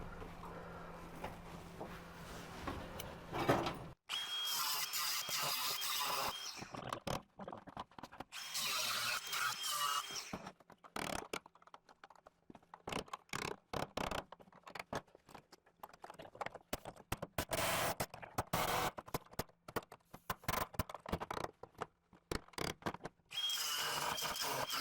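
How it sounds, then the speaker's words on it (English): A grinder cuts rusted metal on the rear floorboards of a 1967 Kaiser Jeep M715, loud harsh bursts of grinding broken by pauses and clanks, heard up close with no talking. "that's gonna be some grinder work for sure"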